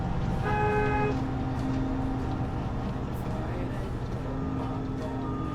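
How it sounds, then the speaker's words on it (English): A truck horn sounds in a bus-driving video game, a short steady honk over continuous engine and road noise, with a voice talking throughout. "Go around it or honk to get the truck moved out of the way"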